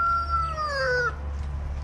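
A rooster crows once nearby, a bright, drawn-out call falling in pitch over about a second over a low background hum, then trailing off into quiet.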